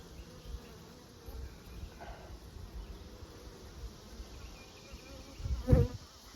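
Honeybees buzzing around an open beehive during an inspection, a faint low hum with a louder close buzz as one bee passes near the end, no speech.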